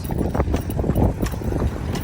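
Horse hooves clip-clopping in a steady, uneven trot, close and fairly loud over a busy outdoor background on the island of Zakynthos, with no clear talk.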